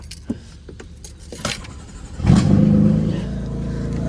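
A BMW M4 or AMG C63 engine cranks and fires up after a few faint clicks and jangles, settling into a steady, fairly quiet idle close by.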